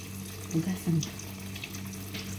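Tap water runs into a sink while fresh garden grapes from Amman, Jordan are washed, a steady close splashing hiss with a low hum beneath and a voice briefly over it.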